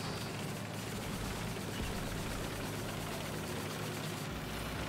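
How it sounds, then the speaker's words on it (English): An enemy plane's engine in War Thunder, a loud, steady droning roar that fills the whole stretch without break, with no speech over it. "Enemy plane."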